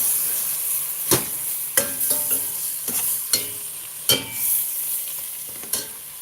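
Cubed beef skirt steak frying in a pan for gravy, a steady close sizzle broken by sharp scraping stir strokes every second or so, with no talking.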